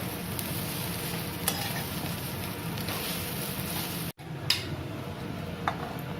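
Vegetables and chowmein with spices sizzle in a pan under a steady fry, while a spatula gives a few separate clicks and scrapes and one brief dropout breaks the hiss. Everything sits close, with no talking.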